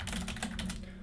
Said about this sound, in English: Type an IP address here